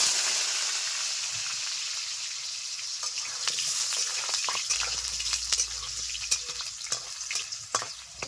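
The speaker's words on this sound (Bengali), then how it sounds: "এখন এগুলো ভেজে নেব।" Pieces of one large potato fry in hot oil with a steady close sizzle and hiss, with scattered sharp crackles and pops that grow busier toward the end and a low hum joining partway through; no one speaks.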